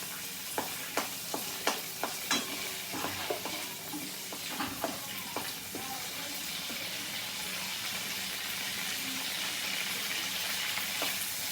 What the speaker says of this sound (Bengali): ওই মাছ ভাজা তেলের মধ্যেই আমি কালো জিরে দিয়ে দিলাম,